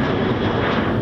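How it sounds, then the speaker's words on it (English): Airplane flying in toward Louisville airport, a loud, steady broadband engine roar close overhead with no break over one second. "We could see every 5 minutes plane flying in."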